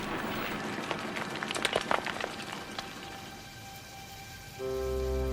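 Steady rain falls on a quarry worksite, a dense, even hiss with scattered sharper drops near the start. Near the end a low, steady droning tone swells in beneath it.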